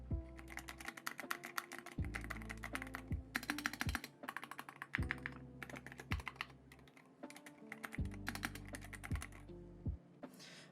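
Typing on a modded computer keyboard with a new shell and replaced keycaps, heard up close as bursts of rapid clacky keystrokes with short pauses between, alone with no talk over the keys.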